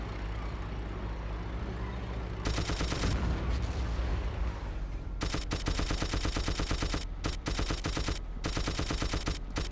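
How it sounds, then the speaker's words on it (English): Tank-mounted machine gun in a video game fires in rapid automatic bursts over a steady rumbling engine, one short burst early, then long sustained rattling strings broken by brief pauses, loud and close. "I can't hit shit with the tank MG"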